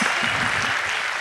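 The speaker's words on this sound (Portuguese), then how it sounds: "Palmas." A short burst of clapping from a small group in a casual Brazilian talk-show setting, dense and steady for about a second.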